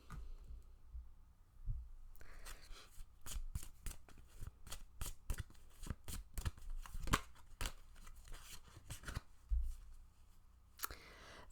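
Tarot cards being shuffled by hand close up, a run of crisp riffling flicks and soft slaps that comes in bursts with short pauses, with no talking over it.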